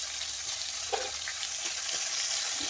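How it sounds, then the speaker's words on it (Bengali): A hilsa fish head and a few shrimp fry in hot oil, giving a steady bright sizzle with small crackles and a couple of faint utensil clinks, no talking. "চিংড়ি মাছটা আর ইলিশ মাছটা আমার ভাজা হয়ে গিয়েছে"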